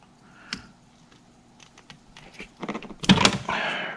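Wire being trimmed while connectors are wired up for a direct-port methanol injection kit: a few sharp clicks and snips early on, then a louder cluster of cutting and handling noises near the end, close up with no talk.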